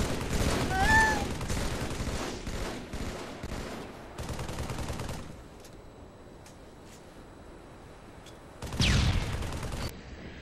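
Gunfire in the Halo 3 video game, rapid bursts of automatic fire at the start, a quieter stretch with scattered shots, then another loud burst near the end.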